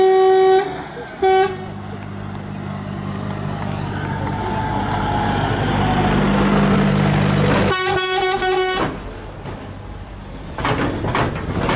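Truck horns honking at a new meat-processing plant workshop opening in Rēzekne, Latvia, a loud horn blast at the start, a long swell of crowd noise and applause, then another long horn blast and more horns.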